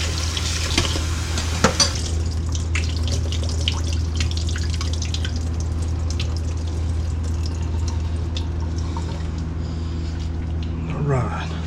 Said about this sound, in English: Go ahead and cool those down with some cold tap water.